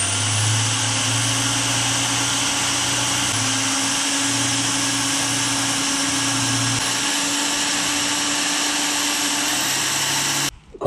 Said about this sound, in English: Stitch drilling, come on.